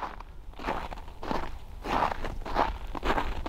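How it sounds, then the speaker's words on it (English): Footsteps crunch through snow in Sweden in a slow, steady rhythm, several crisp compressed steps close by with no voices. "The snow's so crunchy"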